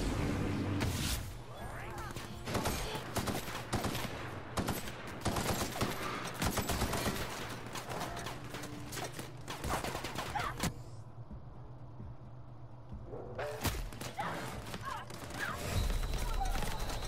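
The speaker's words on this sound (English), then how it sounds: "could you stop shooting me real quick?" Rapid bursts of gunfire from a firefight in the video game The Outer Worlds crackle continuously at close range, mixed with game sounds and voices, with a short lull before the shooting resumes.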